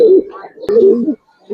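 A Giribaz pigeon pair, both large, gives two loud, close cooing phrases separated by a short click, with a third coo starting at the end.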